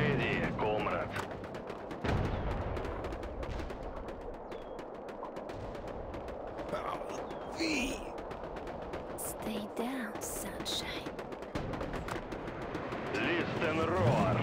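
Soviet guns firing in a World War-era RTS video game, a steady din of gunfire and artillery-like blasts running throughout, with a short spoken line in the mix.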